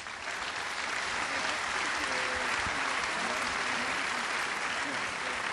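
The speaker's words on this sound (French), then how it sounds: "sous les applaudissements." Sustained audience applause fills the hall at a French awards ceremony for the Mariannes d'Or trophies, a dense, steady wash of clapping at even loudness throughout, with faint voices beneath.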